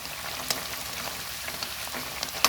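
Tilapia simmering in a pan with red chilies, young peppercorns and kaffir lime leaves, giving a steady close sizzle and bubbling with scattered small pops and crackles throughout.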